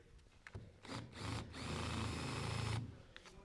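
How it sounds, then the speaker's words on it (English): A hard drill bit countersinks screw holes into ramp material, a steady whirring grind of about a second and a half after a few brief taps and a short burst, close and loud with no talking. "what we're going to use instead is the hardiest drill bit we have, and we're going to just lightly put it in the top here"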